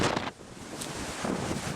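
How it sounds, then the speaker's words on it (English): Steady outdoor hurricane wind during Hurricane Irma rushing and buffeting against the microphone, with a short lull before the gusts pick back up. "There's still gusts of wind coming pretty good."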